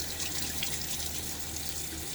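Steady running tap water for the final rinse of a Blackland Sabre razor at a sink, a constant even rush heard alone.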